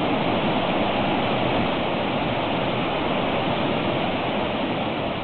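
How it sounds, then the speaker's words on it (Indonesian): The Tetewa waterfall in Alaha village, Uesi, East Kolaka, Sulawesi, roars as a loud, steady broadband rush of falling water with no break and no voices. "Air terjun Tetewa yang terletak di Desa Alaha, Kecamatan Uesi, Kabupaten Kolaka Timur"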